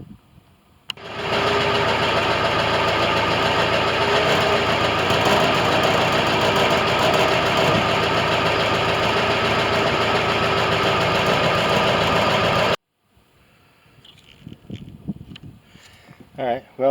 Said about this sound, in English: I'm going to fire up the truck and get some exhaust into it